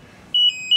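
Two short, high electronic beeps from a joystick calibration alarm sound in quick succession after a brief quiet moment, clear and close.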